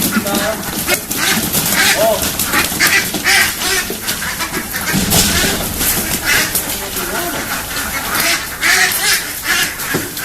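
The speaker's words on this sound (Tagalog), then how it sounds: "bakit may mga nakalabas dito ng mga itik." A crowd of ducks on a duck farm quacks continuously and loudly at close range, overlapping calls filling the scene while a person speaks over them.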